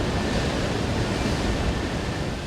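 Ocean surf breaking off a beach in Eastern Samar, Philippines, a steady, loud wash of rolling waves and foam with wind noise, continuous throughout with no talk.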